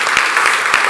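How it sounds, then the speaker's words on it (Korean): Loud, close applause from a small church congregation welcoming a young member, brisk clapping with a few sharper individual claps standing out. "우리 시연이 왔는데 박수"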